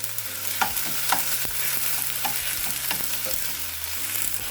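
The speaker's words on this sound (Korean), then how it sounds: "타지 않게 볶아주세요" Frozen garlic and frozen cheongyang chili stir-fry in a pan over low heat, giving a steady soft sizzle broken by repeated scraping strokes of a spatula against the pan.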